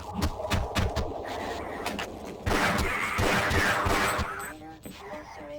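Gunfire from the video game Half-Life rattles in a flurry of sharp shots, then gives way to a louder sustained burst with game voices mixed underneath.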